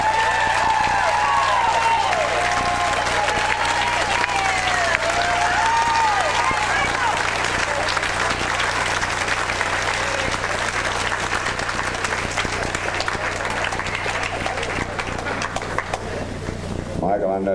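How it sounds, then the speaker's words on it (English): An audience applauds Michael Norris at the 2005 Beach Shaggers Hall of Fame ceremony, a loud, continuous roar of clapping that runs the whole time, with a voice and tonal sounds rising over it early on. "Ladies and gentlemen, give a big round of applause to Mr."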